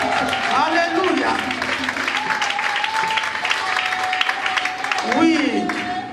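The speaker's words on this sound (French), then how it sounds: "Lève-toi et acclamons très fort." Church congregation applauding and cheering at a Paris gathering, a steady wash of clapping and crowd noise that holds throughout, with a sustained voice or tone running over the top.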